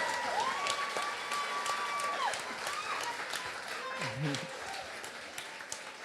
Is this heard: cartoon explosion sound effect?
no